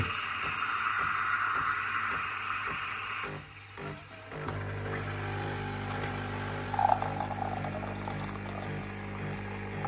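A Nespresso machine pumps a Costa espresso pod, intensity 8, through a steady buzzing whir that shifts partway through into a lower, even droning hum, with a brief louder gurgle near the end.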